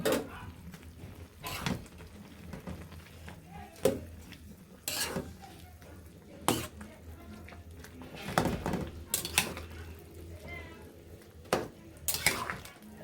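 A vegetable curry with bottle gourd leaves and lentil dumplings being stirred and turned over in a pan, with scattered clanks and scrapes of a spoon against metal between quiet stretches.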